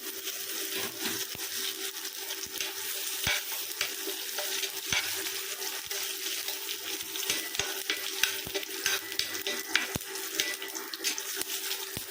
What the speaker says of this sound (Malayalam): എണ്ണ ചൂടായി ഒരു സ്പൂൺ കടുകിടാം പിന്നെ കഴുകിയിട്ട് വേപ്പിലോട്ടിടാം